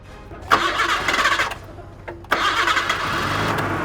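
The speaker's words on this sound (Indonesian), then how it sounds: "coba saya nyalain mesinnya" A car engine cranks and catches to a mid-pitched running idle, alone, after brief rustling and a short pause, then keeps running steadily.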